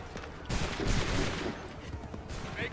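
A musket volley crashes out in an American Revolution reenactment, a rough, overlapping burst of many shots close by with a rolling tail, over a noisy outdoor background.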